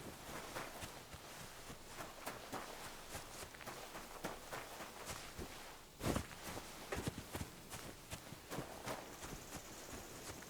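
Horse hooves clip-clop in an irregular walking rhythm across a settlement in the video game Kingdom Come: Deliverance II, fairly close, with a few louder hoof knocks midway and no talking.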